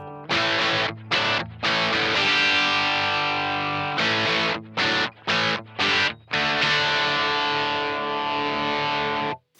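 Electric guitar played through a distortion pedal with the gain knob set midway, on the bridge pickup: loud crunchy chords rung out in several bursts with short gaps, played alone.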